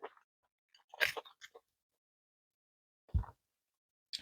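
Crunchy bites of a pork stir fry: a few close, sharp crunching chews in short bursts separated by silence, with one soft low thump.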